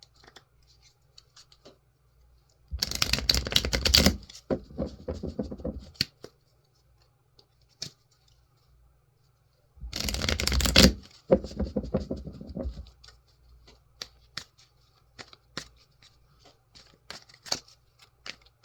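A Universal Waite tarot deck is shuffled by hand in two long bursts of riffling card noise, separated by quiet, with a few scattered taps and soft handling sounds in between.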